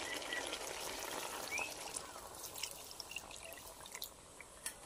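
Water poured into duck curry in a pot, a faint, steady trickle with scattered small drips and splashes, quiet and close.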